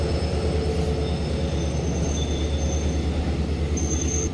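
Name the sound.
MEMU express train arriving at Doddabele station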